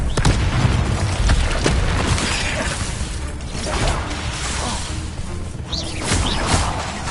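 Explosive combat spells in the Hogwarts Legacy video game go off in a loud, almost continuous barrage of booms, blasts and whooshes, with no talking.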